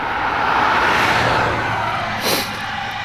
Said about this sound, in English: this spot that has a lot of cars driving by